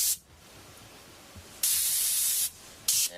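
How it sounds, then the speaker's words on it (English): Airbrush spraying gray paint onto a masked area beside carbon fiber, heard as a brief hiss at the start, then two close, steady hissing bursts, the first long and the second short, with quiet gaps between. "we'll take our gray and we'll spray that in"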